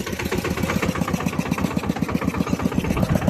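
A New Holland tractor engine runs close by at a steady mid-speed, with a rapid, even diesel chug repeating throughout.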